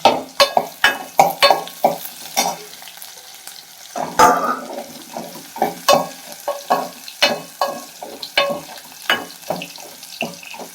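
Dried red chillies and garlic fry in a pan for a keerai kadaiyal, with a rhythmic run of clattering stirs and scrapes over a soft, continuous sizzle.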